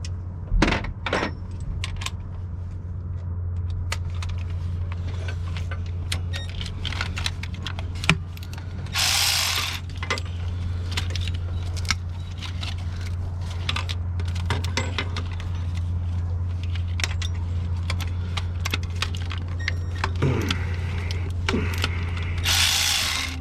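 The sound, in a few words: removing bolts from Freightliner M2 oil cooler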